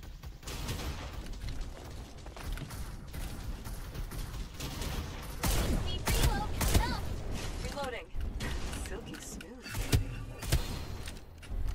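Sniper gunfire in a first-person shooter video game, several sharp loud shots cracking out in the second half over ongoing game noise, with a player talking throughout.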